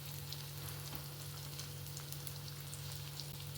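Fish coated in red masala and rava sizzles in hot coconut oil, a steady dense crackle with scattered pops running throughout, close and even in loudness, with no talking.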